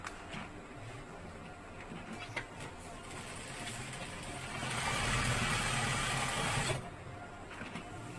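A sewing machine stitches folded fabric in a brief whirring run of about two seconds, set between quieter handling noise in a small room.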